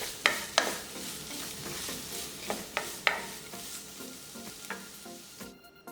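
Small dried anchovies stir-fried in a pan with onion, green chili, water and sesame oil, giving a steady close sizzle broken by repeated scraping stirs and light clacks against the pan.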